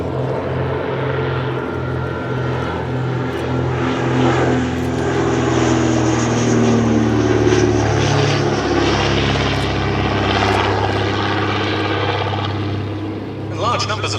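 A vintage De Havilland Dragon Rapide propeller biplane flies at the Shuttleworth Fly Navy Airshow, its engines giving a loud, steady droning hum that swells and then eases over about fourteen seconds, with a commentator speaking over it.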